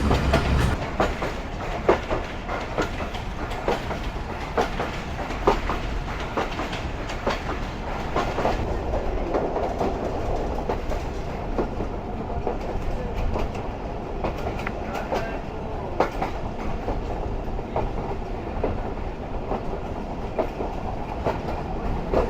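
Train wheels clatter steadily over rail joints during a foggy winter journey, a continuous rumbling clickety-clack with no talking.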